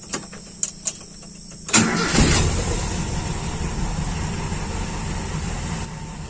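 A car engine fitted with a freshly repaired FMT carburetor cranks after a few faint clicks, catches and rumbles into a steady, fairly loud idle that carries on to the end with no talking.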